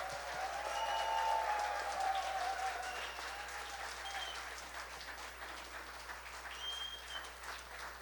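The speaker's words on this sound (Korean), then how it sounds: "뜨거운 환영과 격려의 박수" A church congregation at a retreat worship service applauds to welcome a pastor, with steady sustained clapping that swells early and then holds at a moderate level throughout, with no talking.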